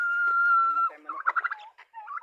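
Chickens at a backyard farm, likely including newly hatched chicks, give one sustained high peep followed by a run of short, choppy chirps and clucks, close to the microphone and loud.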